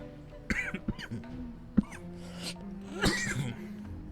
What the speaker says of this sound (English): Damn cough.